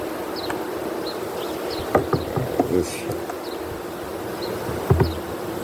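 Honeybees buzzing around a split beehive, a faint continuous hum with brief louder passes of individual bees near the microphone, outdoors under low background noise.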